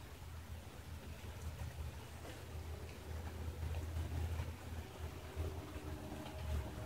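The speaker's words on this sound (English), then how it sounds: "If y'all can hear it, it's raining." Rain heard from a porch, a soft continuous broadband hiss with a low steady rumble underneath, faint and fairly uniform throughout with no voices.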